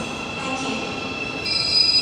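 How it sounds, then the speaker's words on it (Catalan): A train arriving at a station in South Korea rumbles and hisses steadily nearby, with a faint high squeal from the wheels as it rolls in. "Està esperant el tren. Hòstia, acaba d'arribar."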